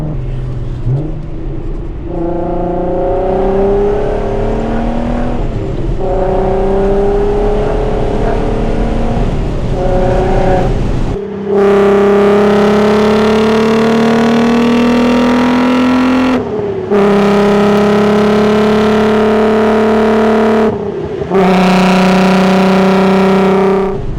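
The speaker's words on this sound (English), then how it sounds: "I do think the exhaust note has changed." A VW MK6 GTI with an all-wheel-drive 3.6L VR6 engine and big cams revving hard, its loud exhaust note climbing through the gears in sustained pulls with brief drops between shifts.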